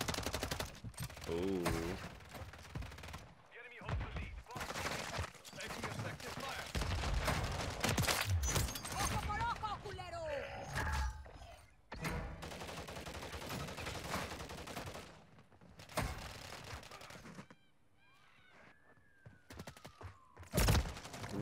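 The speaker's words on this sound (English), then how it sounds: "Started shooting before he even saw me." Rapid bursts of video game gunfire during a shootout, loud and repeated across the stretch with brief pauses, mixed with a thumping explosion and game effects; a voice briefly reacts.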